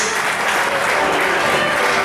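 Loud, dense applause from a show audience at Knott's for Krazy Kirk and the Hillbillies, a steady wash of clapping for about two seconds with no pause.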